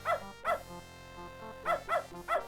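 A dog in the video game Beneath a Steel Sky gives two pairs of short, sharp barks separated by a pause, close and clear with a faint electronic hum underneath and no talking.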